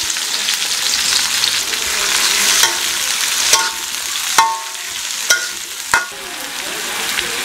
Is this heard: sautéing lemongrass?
yes